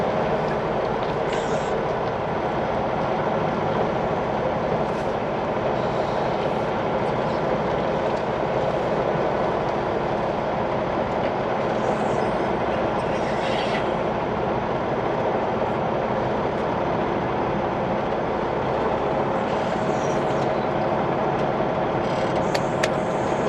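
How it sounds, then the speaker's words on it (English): A pickup truck towing a trailer rolls along, with a steady broadband road rumble and faint rattling knocks running continuously and close throughout. "Man, that trailer sounds great."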